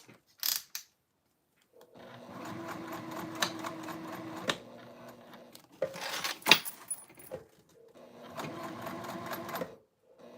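Sewing machine stitching a lined Sallie Circle bag with a zipper pocket, running in several close bursts of steady whirring separated by pauses, clicks and fabric handling.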